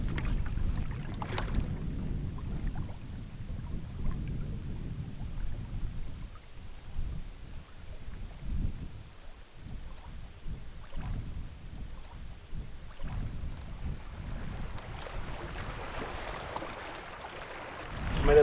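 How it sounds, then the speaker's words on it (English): Canoe paddled along a Canadian Shield lakeshore on a windy day, with steady low wind rumble and soft irregular paddle and water sounds throughout, close to the microphone. "I'm just gonna keep paddling down the shore and go with the wind"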